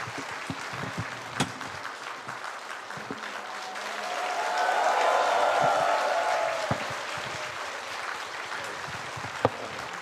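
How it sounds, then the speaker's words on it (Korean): An audience at a celebration concert applauds a drummer with steady, mid-distance clapping that swells and then eases, a few sharper individual claps standing out over the crowd. "우리 다시 한번 우리 드러머 리노 씨에게 박수 한번 주세요."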